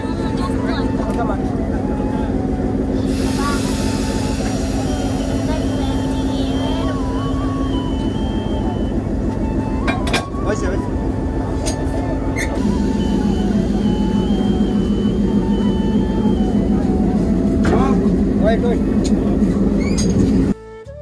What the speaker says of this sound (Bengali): আবার ট্রেনটা রাজশাহীর দিকে ছুটে চললো